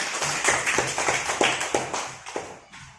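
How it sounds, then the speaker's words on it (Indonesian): A group of schoolchildren in a classroom clap their hands in a loose, rhythmic burst of sharp claps, close and fairly loud, thinning out toward the end. "Tepuk tangan dulu untuk kita semua."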